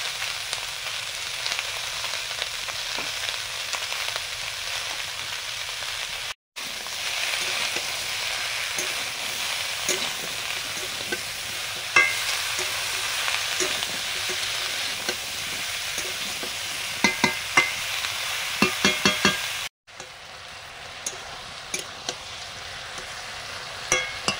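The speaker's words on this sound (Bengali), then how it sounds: "কিছু সময় সবজিগুলো কষার পরে মাছগুলো দিয়ে দিলাম" Vegetables sautéing in a pan with fish to follow, a steady close sizzle and frying hiss with scrapes and clinks of stirring, broken by two short pauses.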